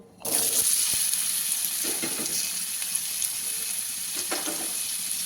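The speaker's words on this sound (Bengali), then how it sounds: "এই মাছ ভাজা তেলের মধ্যে আমি ছোট ছোট করে আলু কেটে রেখেছি, আলুগুলো ভেজে নেব।" Small cut potato pieces frying in oil left over from frying fish, a loud continuous close sizzle that bursts in and then holds steady, with a few faint pops and clinks and no talking.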